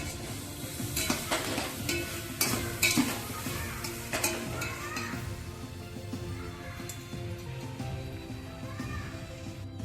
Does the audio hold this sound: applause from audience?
no